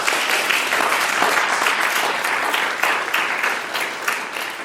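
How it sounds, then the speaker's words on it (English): An audience at an evening talk and conversation event applauds its sponsors with a full, sustained round of clapping, loud and close, slowly easing off toward the end with no speech over it. "Let's give them a round of applause."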